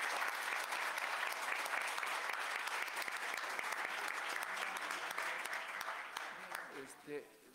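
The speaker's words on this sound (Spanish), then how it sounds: "les damos un fuerte aplauso a nuestros invitados por su brillante exposición" A seminar audience applauds the invited guest speakers after their legal presentation, a dense steady burst of clapping that tapers off near the end as a voice starts talking.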